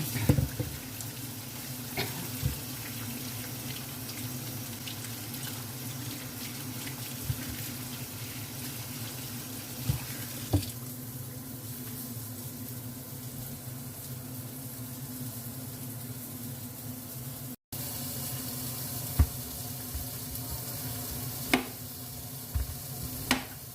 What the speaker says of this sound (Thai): ขั้นตอนแรกนะคะนำมันเทศมาล้างให้สะอาดก่อนค่ะ